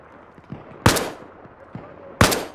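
Two loud, sharp bursts of suppressing gunfire in Arma Reforger, spaced over a second apart, with fainter distant shots and a low background rumble between them.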